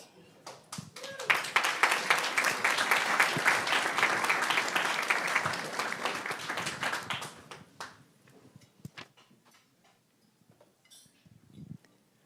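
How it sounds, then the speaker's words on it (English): Audience applause at a charity auction benefiting mitochondrial disease research, a dense, loud wash of many hands clapping for about seven seconds, then thinning into scattered claps and fading out. "How about one more round of applause?"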